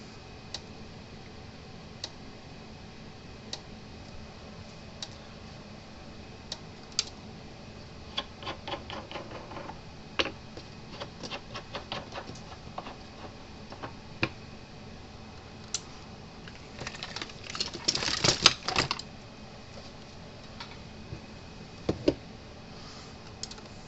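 A Speedrite 12000i electric fence energizer clicks along steadily, sharp regular ticks over a low hum, with a denser burst of crackling clicks late on and no talking.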